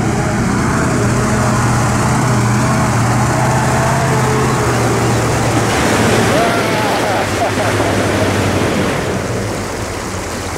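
Loud, continuous roar of water surging and splashing as a Ural army truck pushes through water, with wind buffeting the microphone throughout.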